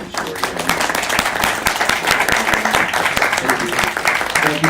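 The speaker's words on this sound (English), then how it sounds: "let's give a big round of applause for Eric and Shori" A room of attendees at a press conference at the Foreign Correspondents' Club of Japan gives sustained applause, brisk clapping heard close and continuous with a faint murmur of voices mixed in.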